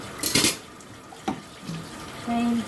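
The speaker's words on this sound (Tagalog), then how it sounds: "Maghuhugas ako ng aking plato." Dishes being washed in a sink, with a brief clatter of plates and cutlery, then water from the tap starting to run near the end, close and fairly loud.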